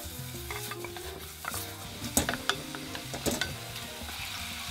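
Pumpkin and minced meat stir-fry in a hot pan, with a sizzle underneath irregular scraping and clacking strokes of a utensil stirring close by.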